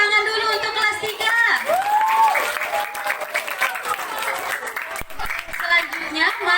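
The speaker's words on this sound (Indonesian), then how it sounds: "berikan tepuk tangan dulu untuk kelas 3" Applause and cheering for class 3 students at a school language performance, a crowd of children clapping and shouting with voices calling over the clapping, loud and continuous.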